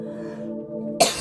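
A single sharp cough bursts out at the end, right after a stretch of sustained humming tone, brief and close.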